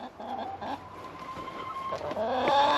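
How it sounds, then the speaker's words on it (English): Several chickens cluck and murmur close by on a homestead in Central Oregon, overlapping soft calls rising a little toward the end, with no talking. "chickens are doing good"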